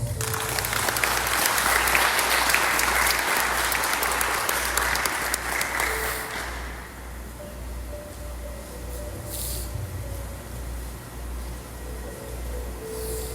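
A church congregation applauding: dense, loud clapping for about six seconds, then fading to lighter scattered claps under the room's ambience.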